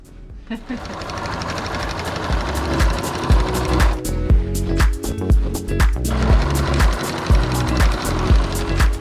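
A domestic sewing machine stitches a boat bimini, running in a steady rapid mechanical rattle that starts, speeds up and pauses in bursts, close and loud.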